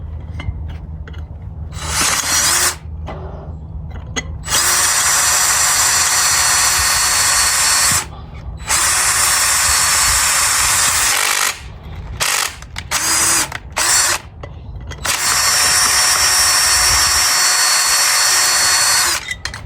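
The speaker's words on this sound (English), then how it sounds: "I'm gonna drill that hole" A power drill whines loudly, boring a hole through metal in several long bursts, stopping and restarting with short pauses and brief mechanical clicks between runs.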